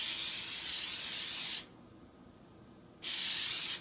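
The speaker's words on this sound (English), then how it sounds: "let me go on ahead and spray the pan" Two short bursts of hissing cooking spray onto a pan close by, separated by a brief pause, with no talking.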